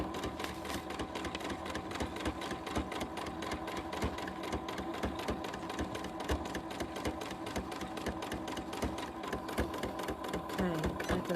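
A sewing machine stitching a fabric bag: a steady, rapid mechanical chatter of the needle running continuously at close range, with no pauses.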